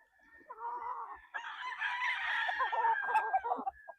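A gamefowl rooster at a game farm crows one long, loud, close cock-a-doodle-doo, with a shorter lead-in call before it and nothing else under it.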